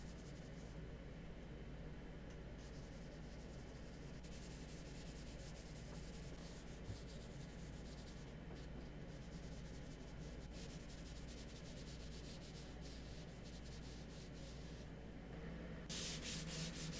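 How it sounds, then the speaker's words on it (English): Steady rubbing of sandpaper worked by hand along the edge of a Thomasville wooden dresser, a continuous close, soft scratchy hiss with no pauses and no voices. "I just put a piece of sandpaper on it to brush up against that edge there"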